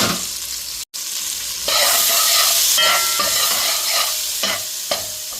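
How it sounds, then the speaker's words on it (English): Pepper, garlic and pimentos sizzling loudly in a pot for Trinidadian curry duck and goat, a dense close sizzle broken by a brief silent gap and occasional stirring scrapes. "Burning this piece of pepper nice."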